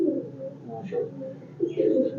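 Old black Chinese pigeons, a kabutar bazi flying breed, coo in a few low throaty phrases, with a short pause between them, moderately close.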